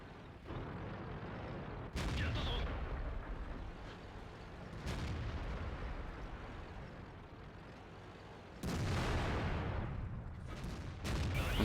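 Tank cannon shots boom in World of Tanks from a Japanese tier IX Type-61 medium tank, several heavy blasts at irregular intervals over a rumbling engine background, loud and close.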